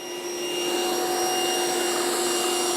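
A Trifo Maxwell robot vacuum running steadily with a constant whirring suction hum and high tonal whine as it picks up a metal washer, close and continuous.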